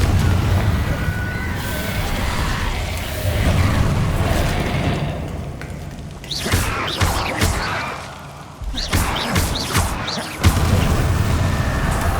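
Explosive blast from the Confringo curse in a Harry Potter film, heavy booms and bursts striking in quick succession amid loud, dense action noise, with a few sharp impacts standing out near the end.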